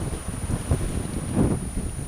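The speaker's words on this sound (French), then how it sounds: "Et là, il souffle à 16-17 nœuds." Wind blowing at 16–17 knots buffets the microphone aboard a sailboat crossing from Corsica to the mainland, a low rumbling roar with gusty surges over the sea, no voices heard.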